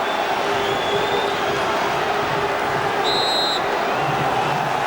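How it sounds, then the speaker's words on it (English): Football stadium crowd at an FA Cup quarter-final between Tranmere Rovers and Liverpool, a dense steady roar of cheering and noise filling the whole stretch, loud and continuous with a brief whistle-like tone near the end. "Listen to the crowd now."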